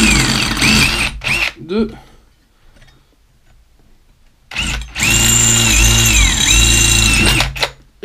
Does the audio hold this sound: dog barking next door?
no